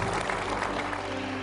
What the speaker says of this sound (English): How about we all give a nice round of applause for Highland Park High School coach Randy Allen.